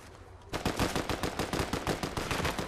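Automatic gunfire in the Fortnite battle royale, a fast, steady string of sharp shots starting abruptly and continuing at an even rhythm, moderately distant.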